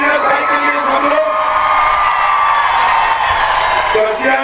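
A large outdoor crowd at a political rally in Darjeeling cheering, whooping and clapping for a candidate, a dense continuous roar heard close and loud.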